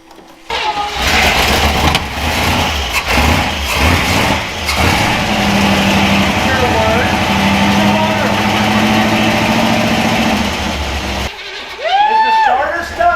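An old Willys wagon engine cranks and sputters with sharp backfire pops, a loud continuous churn running close up for about ten seconds before cutting out; people talk over it.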